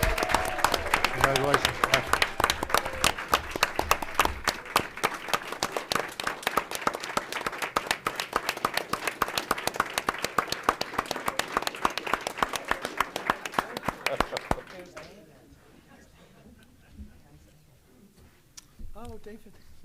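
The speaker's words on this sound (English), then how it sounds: "I'll give you a round of applause" A room at a county board of elections meeting breaks into a sustained round of applause, dense close clapping for about fifteen seconds before fading, with people speaking over it and talk continuing afterward.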